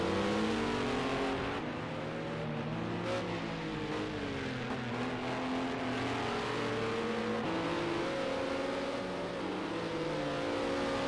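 Racing cars lap in an Xbox racing video game, their engines whining and rising and falling in pitch as they shift and pass, a continuous moderately loud drone.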